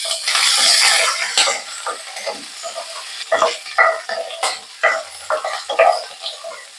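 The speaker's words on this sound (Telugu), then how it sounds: "కరివేపాకు వేస్తున్నాను, ఉల్లిపాయలు వేస్తున్నాను అండ్ పచ్చిమిర్చి వేస్తున్నాను. ఇవన్నీ కొంచెం కలర్ వచ్చే వరకు ఫ్రై చేసుకుందాం." Curry leaves, onions and green chilies frying in a pan for a pumpkin curry: a loud opening sizzle that settles into softer crackling, broken by close scrapes and knocks of stirring.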